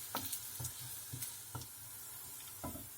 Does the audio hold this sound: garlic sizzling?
yes